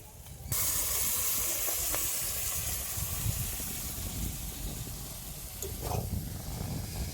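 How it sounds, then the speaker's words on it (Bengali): Ridge gourd paste hits a hot wok of fried shrimp and spices with a sudden loud hiss, then settles into a steady broadband sizzle that lasts throughout, with a brief flare of spatter near the end. "এবার এই ঝিঙে বাটাটাকে কড়াইয়ের উপরে দিয়ে দেবো"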